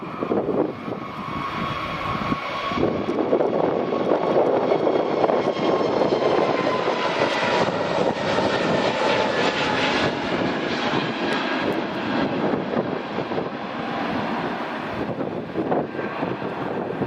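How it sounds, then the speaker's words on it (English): A British Airways A320neo jet departs Edinburgh Airport on runway 24, a loud continuous engine roar that swells and holds steady for the whole stretch. "here's British Airways A320 Neo departing back to London"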